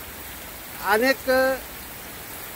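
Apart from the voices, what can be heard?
heavy rain falling on a weekly market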